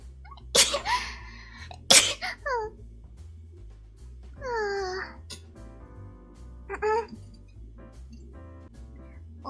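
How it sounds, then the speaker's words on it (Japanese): Two sharp sneezes from a VTuber streamer, the first near the start and the second a moment later, each loud and explosive, followed by soft high voiced murmurs and small vocal sounds over a steady musical background. "くしゃみです。"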